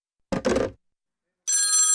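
A telephone bell rings loudly and steadily in a radio drama, starting after a short spoken phrase and continuing alone.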